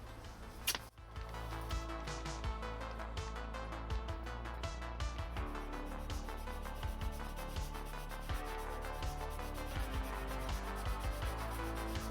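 Sandpaper rubbing over a balsa wood guitar body, a steady close scratching hiss with repeated short strokes running throughout, preceded by a brief sharp knock near the start.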